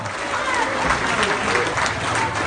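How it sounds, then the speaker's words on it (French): An audience at an apple fair applauds a prize winner, a steady crowd of clapping at close range with voices mixed in throughout. "Félicitations, on applaudit."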